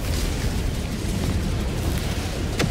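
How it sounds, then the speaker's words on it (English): Rocket pods striking a tank in the Helldivers 2 video game, a dense, sustained rumble of explosions that stays loud throughout with a sharp burst near the end. "Rocket pods coming down for that tank."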